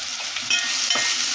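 Turmeric and red chili powder sauté in a pan for biryani: a short burst of close sizzling with two quick spoon-stirring scrapes over it, and no voices.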